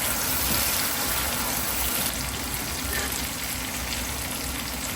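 Pumpkin and onion fry in a pan over a low flame, making a dense, constant sizzling hiss that stays loud and even throughout.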